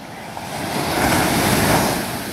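Ocean waves break at a surf beach in Carrizalillo, Puerto Escondido, during a children's surf contest: a loud, close roar of surf swells and then eases, mixed with wind noise on the microphone and no voices.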